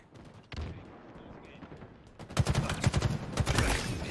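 Bursts of rapid gunfire crackle in a busy Halo Infinite soundscape, building from scattered shots into dense, repeated volleys toward the end.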